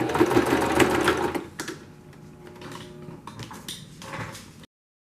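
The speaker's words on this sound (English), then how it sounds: "you are going to sew a line all the way down from the top to the bottom" A sewing machine stitches a seam down a pleated fabric face mask, a fast loud mechanical whir for about a second and a half, then quieter handling and clicks before silence.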